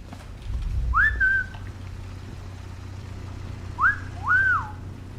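Rising whistles in a Sniper Elite 5 stealth level, one near the start and two more close together toward the end, each a short upward-sweeping tone over a quiet low ambient hum.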